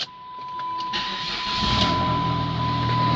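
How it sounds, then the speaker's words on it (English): A 2003 PT Cruiser's 2.4 turbo engine cranks and catches with no muffler fitted, a high electrical whine and hiss giving way to a rising, rough exhaust rumble that settles into a loud, raw idle. "I got to start it up with no muffler on it just to see what it sounds like"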